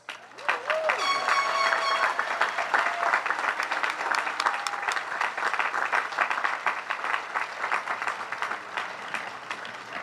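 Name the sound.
applause for graduates at graduation ceremony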